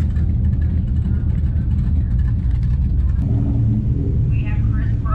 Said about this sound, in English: we're going up against Chayton and his Mark III. It's VR6, so it should be an interesting run.